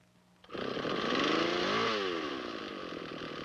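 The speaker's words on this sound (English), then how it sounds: "If the chainsaw does move during idle, adjust the idle speed." A chainsaw motor kicks in and revs up, its pitch swooping before settling into a steady, loud drone nearby.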